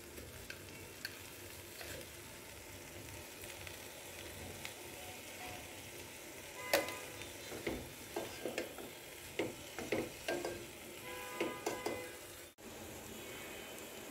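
Vegetables and spinach are stir-fried in a pan, a soft steady sizzle broken by a run of clattering spatula scrapes and taps in the second half.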